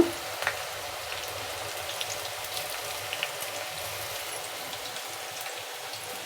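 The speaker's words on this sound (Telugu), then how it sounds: "కొద్దిసేపు అలాగే ఫ్రై కానిద్దాము" Cabbage pakoda fries in hot oil, giving a steady, soft sizzle with faint crackles throughout.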